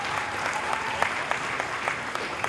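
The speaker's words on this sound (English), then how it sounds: "What does it sound like when you're doing a polite applause?" An awards-show audience gives polite applause at a cannabis industry awards event: a fairly quiet, thin patter of scattered claps lasting a couple of seconds, with no voices over it.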